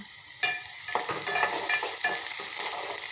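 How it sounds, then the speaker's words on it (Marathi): Onions for a tomato chutney fry in a pan with a bright, constant sizzle, punctuated by a few soft knocks and scrapes as they are stirred, close up and without talk. "छान असे मऊसूत होईपर्यंत मस्त असा शिजू देणार आहे आपला कांदा"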